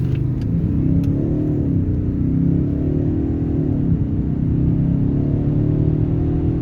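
A 2019 Audi S6 3.0 TDI with 349 hp pulls hard from a standstill toward 100 km/h, its diesel engine droning loud and steady from inside the cabin as it climbs through the gears, with no talking.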